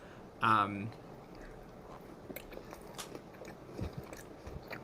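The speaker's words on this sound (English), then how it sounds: "A lot of slurping, a lot of crunching, a lot of squelching" A mukbang eater chews food with soft crunching and wet squelching bites, quiet and close, following a brief loud vocal sound at the start.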